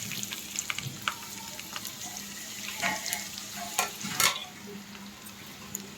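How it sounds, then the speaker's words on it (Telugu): Onions frying in hot oil for a tomato egg curry, a continuous close sizzle broken by several clattering stirs and scrapes, one louder burst near the middle. "టమాటా ఎగ్ కర్రీలోకి ఆయిల్ కాగిన తర్వాత ఆనియన్స్ వేసుకోవాలి"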